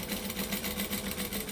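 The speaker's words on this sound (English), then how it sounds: "Stitch along this edge." A sewing machine runs steadily while stitching along the edge of a drawstring bag, a close, rapid rhythmic whirring hum.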